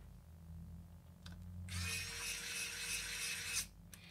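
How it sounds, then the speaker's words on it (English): A screwdriver used on the internals of a military-grade industrial DA5 PDA while its memory backup battery is changed, a close, fairly quiet burst of high buzzing lasting about two seconds over a low background hum. "This is the best screwdriver, the best purchase I ever made."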